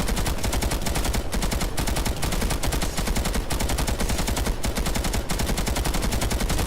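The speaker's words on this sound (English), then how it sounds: "when you start burst firing" Rapid bursts of weapon fire from a video game, repeated automatic volleys crackling continuously at close range with no pauses for speech.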